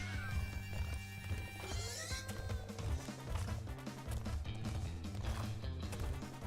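Riding the pig in the Crash Bandicoot video game brings bouncy game music with a galloping, hoof-like rhythm and animal squeals, loud and continuous throughout.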